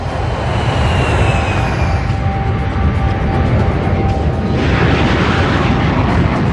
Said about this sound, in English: The B-52 had 8 J57 engines hanging in double pods below its huge drooping wings.